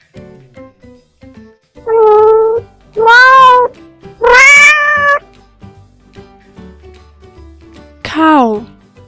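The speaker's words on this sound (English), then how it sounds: "Cat." A domestic cat meows four times in drawn-out, tonal calls with pauses between, close and clear, over faint background noise.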